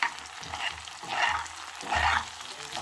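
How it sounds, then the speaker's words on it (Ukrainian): Oil sizzling and crackling in a pan as potatoes fry, with a soft hiss that swells in three rounds, like something being stirred or turned. "а я тут смажу в темноті, підсвічую телефоном, картоплю"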